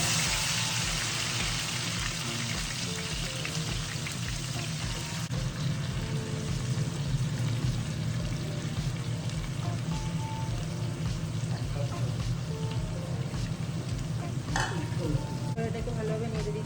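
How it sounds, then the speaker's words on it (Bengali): Marinated mutton for Kolkata-style biryani hits hot oil in a pot, producing a loud, dense, continuous sizzle and crackle that holds steady throughout, with occasional stirring noises layered over it. "তেল আমাদের গরম হয়ে গেছে। এবারে ম্যারিনেশন করা মাংসগুলো আমি এখানে দিয়ে দিচ্ছি।"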